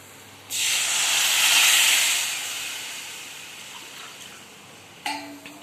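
A loud burst of hissing steam as water is poured into frying masala in a hot pan, fading gradually over several seconds, with a short clatter near the end.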